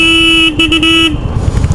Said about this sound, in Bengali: অ্যান্ড এই বাইকের যে হর্ন, এই যে দেখেন